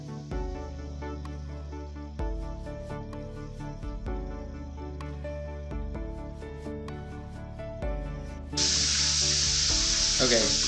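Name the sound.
chicken livers frying in hot oil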